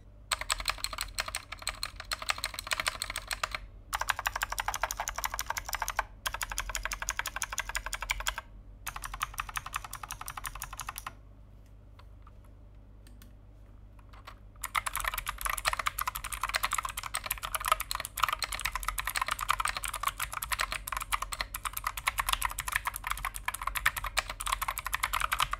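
Typing on a Fantech ATOM96 MK890V2 mechanical keyboard with Fantech's own switches, a dense run of crisp clicky keystrokes, close and fairly quiet, with a few short pauses and one longer gap midway, no talking.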